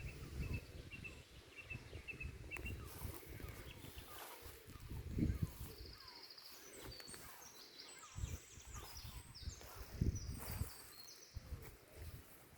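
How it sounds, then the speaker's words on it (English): Distant seagulls call in high, repeated cries over wind and rustling ground noise in a cottage garden, faint and scattered through the scene. "I can hear seagulls."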